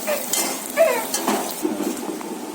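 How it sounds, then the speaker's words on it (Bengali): Oil frying in a wok while ingredients cook for rice and chicken curry, a soft steady sizzle with scrapes and light utensil clinks of stirring throughout, fairly close, no talk. "এখানে হচ্ছে যে ভাজা চলছে।"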